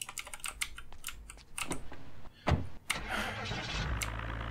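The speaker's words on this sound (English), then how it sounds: "the car starting up right away is like a gift from the gods" A car engine cranks and catches in the zombie survival game Project Zomboid, coming to life with a low rumble that settles into a steady idle, amid rapid clicks of computer keyboard typing.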